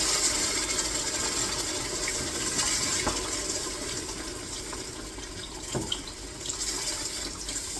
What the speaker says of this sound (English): adding my broth